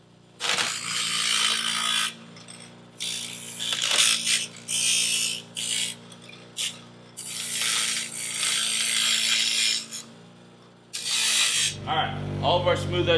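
A power grinder smooths rough metal edges on brake dust plates, cutting in and out in harsh bursts of bright grinding separated by short pauses, with a low motor hum at the end.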